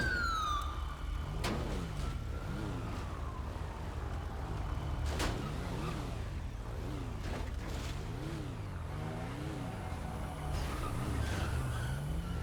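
A police car siren in a roleplay video game wails continuously with rising and falling sweeps, loud and close, over a steady engine drone, with a few sharp clicks and bursts scattered throughout.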